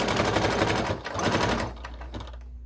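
A sewing machine runs a fast, continuous stitch along the edge of thick terry cloth for a reusable towel, close and steady, with a brief slowdown near the middle and the motor winding down at the end.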